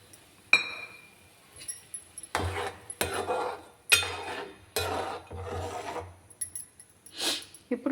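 A metal lid lifted off a cooking pot of Telugu-style egg curry with tamarind, giving several scraping, clinking knocks spaced over a few seconds with rasping contact sounds, close by and with no talk.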